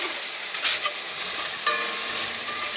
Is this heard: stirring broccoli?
yes